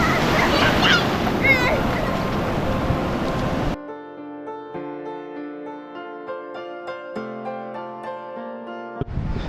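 Roaring surf and wind from waves breaking on a Konkan beach at Anjarle-Kelshi dominate at first, then cut off abruptly, giving way to sustained tonal music.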